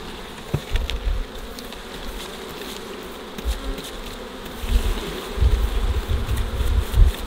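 Bees buzz steadily around a beehive, a close, continuous drone that swells louder toward the end.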